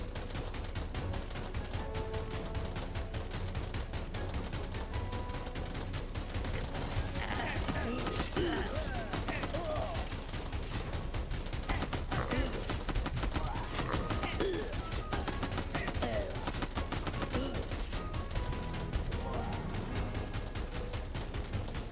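Constant, dense gunfire from a gunner unit in the 2D strategy game Last Stand Clone Armies, rapid shots and bursts layered into a continuous loud barrage through the whole stretch, with a voice talking over it.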